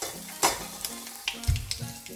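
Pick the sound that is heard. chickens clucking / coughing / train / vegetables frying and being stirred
vegetables frying and being stirred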